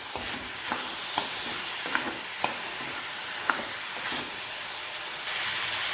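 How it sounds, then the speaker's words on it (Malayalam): Ivy gourd and tomato sautéing in hot oil, a continuous hissing sizzle close by with a few soft ladle taps and scrapes spaced through it. "നന്നായിട്ട് ഈ എണ്ണയ്ക്കകത്ത് ഈ കോവയ്ക്ക ഒന്ന് വഴന്ന്, ടൊമാറ്റോയും ഒക്കെ ഒന്ന് വഴന്ന്"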